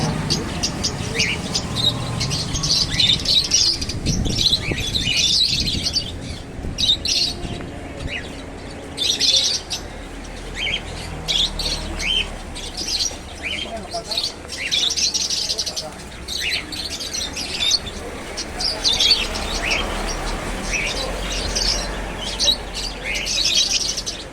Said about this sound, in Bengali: পাখিগুলো এই খাঁচায় থেকে স্মার্ট হয়ে গেছে।